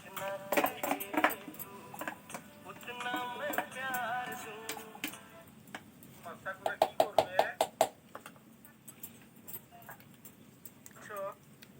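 A metal cake pan holding eggless semolina batter is tapped on a surface to settle it, giving clusters of sharp knocks and clinks amid kitchen clatter while someone talks.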